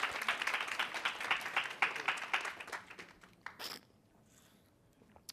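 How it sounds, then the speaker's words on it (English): A conference audience applauds volunteers at an improv workshop for HR professionals, with brisk clapping that fades away over a few seconds, leaving a quiet room with a few stray sounds. "Round of applause for our brave volunteers."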